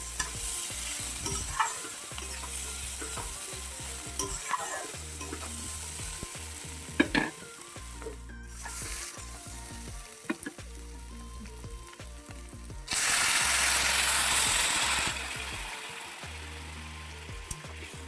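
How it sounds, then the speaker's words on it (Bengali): Small mourala fish fry in a pan as they are turned by hand, giving a continuous close sizzle with irregular stirring clatter, then a louder hissing burst near the end. "এখন বেজে রাখা এই মকা মাছগুলো দিয়ে দিচ্ছি তো হাতে নাড়াচাড়া করে অল্প পরিমাণ মতো"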